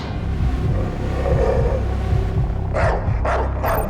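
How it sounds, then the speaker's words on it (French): Outdoors on a mountain trail, a dog gives a few sharp barks near the end, each one distinct, over a steady low rumble of wind or movement. "On se fait expulser par un chien"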